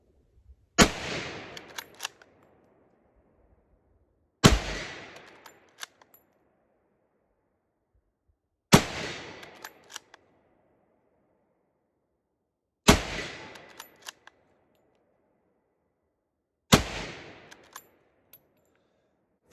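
An 8mm Mauser Gew98 rifle fires five loud, sharp shots at an outdoor range, evenly spaced about four seconds apart, each crack followed by a short decaying echo, with quiet between.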